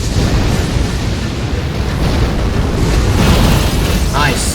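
A massive in-game blast from the Destined Death attack in Elden Ring roars as a loud, dense rumble lasting several seconds, with crackling debris over a low boom.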